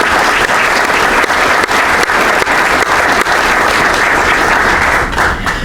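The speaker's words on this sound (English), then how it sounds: "please join me in a round of applause for the Society of Alumni Executive Committee" Loud, sustained applause fills the hall at an alumni society annual meeting, a dense unbroken wash of many clapping hands from a large audience.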